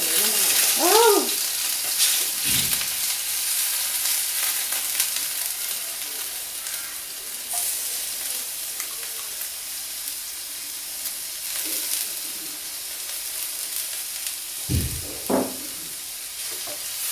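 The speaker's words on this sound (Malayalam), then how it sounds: "നമ്മൾ ചതച്ച് വെച്ചിരിക്കുന്ന വെളുത്തുള്ളിയും ഉള്ളിയും കൂടെ നമുക്ക് ഇട്ട് കൊടുക്കാം" Crushed garlic and onion frying with mustard seeds in hot oil, a loud sizzle that slowly settles into a steady hiss, with a few clinks and stirring knocks and brief voice sounds at times.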